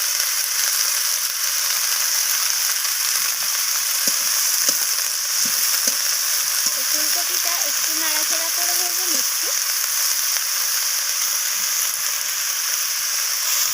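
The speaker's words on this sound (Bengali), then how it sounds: "ফুলকপিটাকে একটু ভেজে নিচ্ছি" Cauliflower pieces fry in a pan as part of a mixed vegetable dish, giving a steady, bright sizzle with occasional stirring scrapes, while a voice talks briefly over the middle.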